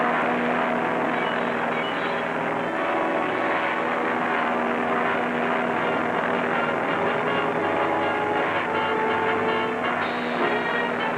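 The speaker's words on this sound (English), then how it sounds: "The motor's dead. The plane's out of control." A propeller airplane with a dead, failing motor drones steadily throughout, a continuous loud engine roar with a wavering tone from a 1966 film scene.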